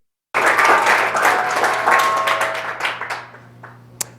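Applause from a lecture audience welcoming the speaker, dense and sustained clapping that starts abruptly, then thins and tapers off over a few seconds with a last stray clap near the end.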